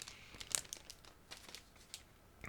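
A plastic bag holding a single model kit sprue crinkles and tears open close to the microphone, with soft crackling bursts and a few sharper rustles in an otherwise quiet room.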